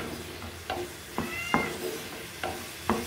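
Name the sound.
pet cats meowing at home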